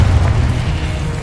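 Confringo fire spell blast in Hogwarts Legacy on PS5, a loud, sustained low rumbling boom with no voices over it.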